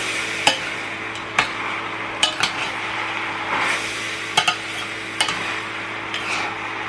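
Chinese-style rice with bell peppers being stirred in a pan, a spoon scraping and knocking against the metal in irregular sharp taps over a soft, steady sizzle.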